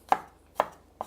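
A knife slices garlic on a cutting board in three crisp, evenly spaced chops about half a second apart, close and clear against a quiet background.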